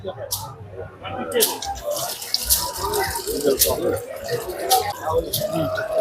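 At a crowded agricultural fair, a small narrow-mouth barrel pump motor pushes water out in a steady gushing splash, with people talking loudly throughout.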